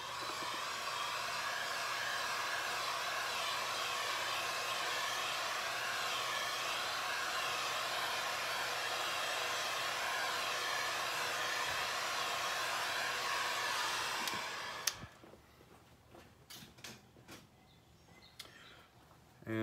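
Heat gun blowing steadily on a freshly painted Corvette splitter, a loud, even airy roar for about fourteen seconds before it cuts off, followed by faint shop noise.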